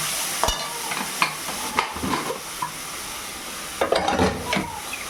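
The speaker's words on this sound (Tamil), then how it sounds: "கொஞ்சம் மிளகாத்தூள் போட்டுக்கலாம். நல்லா வதக்கலாம்." Goat liver and lung offal sautéing with turmeric and chili powder in a pan: steady soft sizzle with repeated stirring scrapes and clinks, close by, no talk.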